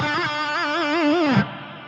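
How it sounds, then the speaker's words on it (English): An electric guitar plays a quick pentatonic lick with wavering, vibrato-like bends, then the final note slides down in pitch and cuts off sharply, leaving a faint amp hiss; played alone at moderate loudness. "So that's the backslide on the final note."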